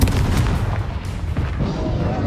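Bombarda and Confringo spells explode during Hogwarts Legacy combat, a dense run of loud, close booming blasts and crackling rumble with no pause.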